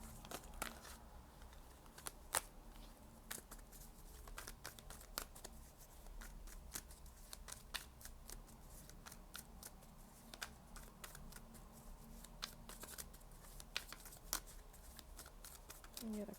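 Tarot cards being shuffled and drawn from the deck, a soft rapid riffling and flicking of card stock with scattered sharp snaps, steady and close, with a voice talking intermittently over it.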